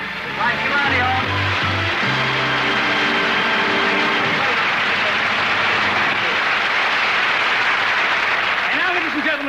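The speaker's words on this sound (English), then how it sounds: "Applause, applause, applause." Studio audience applause at a 1973 BBC comedy taping, a dense, loud wash of clapping that fills the whole stretch, with some low tones and a voice near the start.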